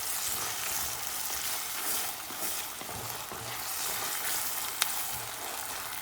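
Ginger paste sizzling in hot oil with chopped onions and shallots for a Kerala fish curry, a steady close frying hiss running throughout with faint stirring clicks and one sharp tap near the end.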